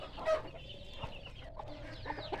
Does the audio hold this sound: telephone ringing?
no